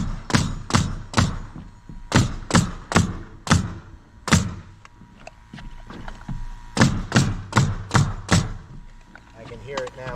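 Pneumatic nail gun fastening AdvanTech tongue-and-groove floor sheathing, air compressor running, firing a string of sharp, loud, closely spaced thumps in quick bursts with short pauses between runs.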